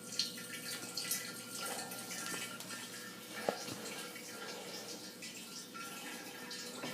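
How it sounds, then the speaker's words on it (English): Water trickles through a Vinbrite wine filter into a carboy, a soft, steady flow with faint drips and one small knock, quiet and close. "water will start to flow through"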